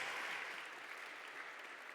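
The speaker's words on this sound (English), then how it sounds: "Give her a round of applause." Steady applause from an audience, a continuous wash of clapping that holds at an even level throughout with no voices over it.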